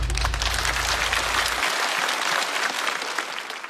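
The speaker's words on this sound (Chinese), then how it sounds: "再次掌声。" A comedy show audience on a Chinese stand-up stage breaks into loud, sustained applause, dense clapping that carries on steadily and eases slightly toward the end, with no voices over it.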